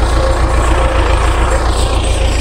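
A tractor engine runs steadily close by, giving a continuous low droning rumble that stays even throughout without breaks.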